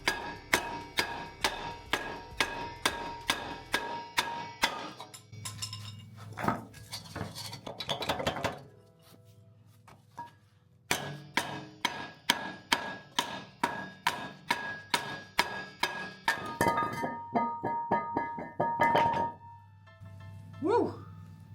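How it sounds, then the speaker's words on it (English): Metal hammer strikes on a block held against a stuck brake rotor on an old Toyota Supra, a long series of sharp, ringing clanks in steady bursts with short pauses, loud and close. "we're gonna try and put the block on the back of it and try to strike it a little harder"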